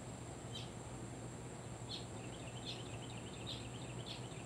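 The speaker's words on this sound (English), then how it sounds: "Do y'all hear the birds" Several birds singing around backyard feeders outdoors, faint high chirps repeating every second or so over a steady low background hum.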